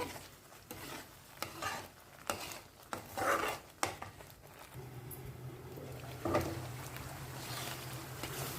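Pulihora rice being stirred in a cooking pot, with repeated scraping and clinking strokes of a spoon against the pot, close and moderately loud, with a low steady cooking hum underneath.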